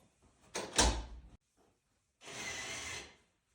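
A GEZE motorized door swings shut automatically with a loud thump and rattle, followed after a pause by a CEMO motorized lock engaging with a steady mechanical whir lasting about a second, close and clear with no talk.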